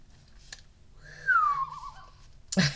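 A person whistles a single gliding, wavering note in imitation of a loon call, close and fairly clear, with a few soft clicks around it.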